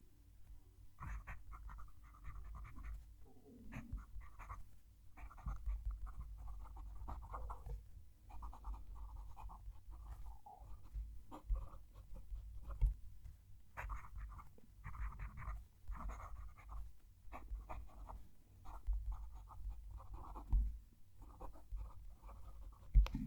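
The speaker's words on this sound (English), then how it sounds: "I'm going to move the mic down to the page and write my sentence." A fountain pen scratches across paper while a sentence is written, the nib close to the mic: soft, irregular strokes and short pauses over a low steady hum.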